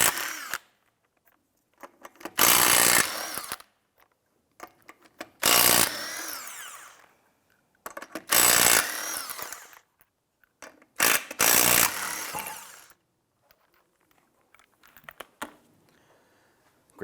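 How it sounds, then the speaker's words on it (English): Impact wrench with a 19mm socket loosening and removing five lug nuts on a 2005-2007 Ford Five Hundred front wheel, heard as four loud separate buzzing bursts of a few seconds each, with quiet gaps and faint ratcheting between them. "Using your 19mm socket, loosen and remove the 5 lug nuts"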